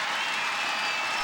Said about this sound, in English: And the crowd applauds a terrific rally.